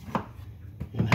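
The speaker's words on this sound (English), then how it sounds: "chop the top off, cut them" A knife chops through zucchini on a cutting board, two or three sharp thuds spaced apart, close and fairly clear, with faint kitchen background between cuts.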